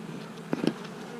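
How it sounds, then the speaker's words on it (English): Honey bees buzz in a low, steady hum around a weakened hive, close by, with a couple of brief louder passes as individual bees fly near. "Okay, there's some bees here"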